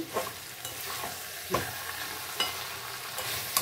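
Masala sautéing in a pan as a spatula presses and stirs it, with a soft steady sizzle and a few distinct scraping strokes spaced through the clip, close and alone without speech.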